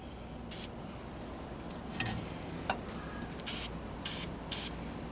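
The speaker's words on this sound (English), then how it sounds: "Nope. You just spray it on." An aerosol can sprays HDT rust repair coating in several short, loud hissing bursts, close by, with quieter gaps between them.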